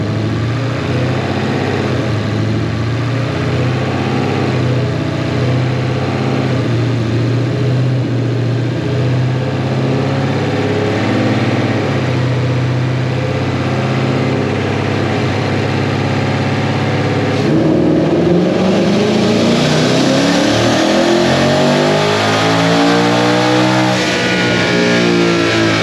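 A twin-turbo S550 Mustang GT roars loud and close on a dyno, its engine note climbing in a long sweeping pull, then dropping and rising again in a second rising sweep near the end.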